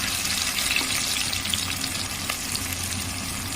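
Onion, tomato and green chilli frying together in hot oil for masala Maggi, giving a steady, close, continuous sizzling hiss with no talking.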